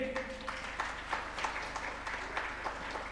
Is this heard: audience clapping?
yes